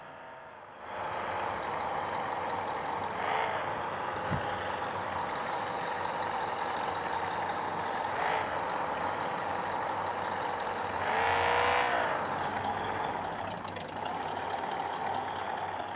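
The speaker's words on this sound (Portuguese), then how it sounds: "É um Scania! Scania antigo!" An old Scania truck rumbles along a street with a steady, loud engine drone that holds for about fifteen seconds and swells briefly as it passes nearest.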